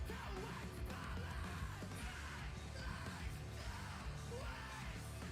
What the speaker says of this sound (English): Who's the dude screaming in the background?